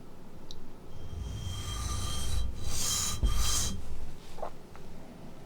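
A reed knife blade is sharpened with a wedge angle guide ramp setting the bevel, giving soft rasping, rubbing strokes at close range, fairly quiet, with a couple of brighter scraping passes near the middle.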